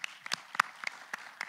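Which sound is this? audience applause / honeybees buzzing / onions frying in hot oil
audience applause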